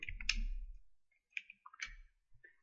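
A computer keyboard key is pressed, giving a handful of sharp, light clicks spread unevenly over a couple of seconds, close and quiet against near silence, with no talking.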